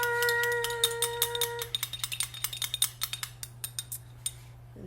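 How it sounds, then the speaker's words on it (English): Small utensil stirring red food colouring into egg yolk in a bowl, a quick run of light clinks and taps after a steady tone fades, close and fairly clear. "I'm going to do some drops of red into my egg yolk and stir."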